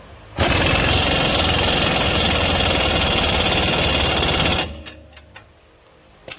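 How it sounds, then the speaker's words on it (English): An impact gun tightens an 18 mm rear strut nut on a 2012 Dodge Journey, a loud continuous buzzing rattle lasting about four seconds that stops abruptly, followed by a few quiet clicks and taps. "We're gonna take our impact gun, make sure it's set to tighten, put it on here."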